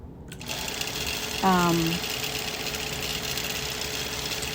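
Sewing machine quilting flower petals on a quilt, a steady close mechanical whir running throughout, with a brief voiced sound rising over it partway through.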